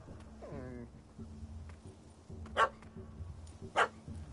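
A puppy from The Witcher 3: Hearts of Stone yaps in a short burst near the start, with a few faint follow-up yips amid game ambience and sharp clicks, with no talk.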